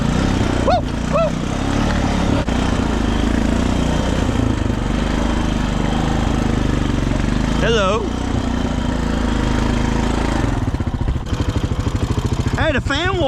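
A Honda Foreman 450 four-wheeler in bad shape runs with a continuous mid-pitched engine drone and its cooling fan on, close by, while someone talks over it.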